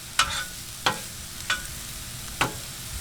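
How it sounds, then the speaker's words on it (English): Onions sizzle on a Blackstone 22-inch griddle beside steak, with four sharp scraping stirs of a spatula standing out over a soft, steady frying hiss, no voices. "Great sizzle."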